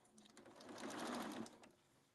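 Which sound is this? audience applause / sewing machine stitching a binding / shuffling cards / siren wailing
sewing machine stitching a binding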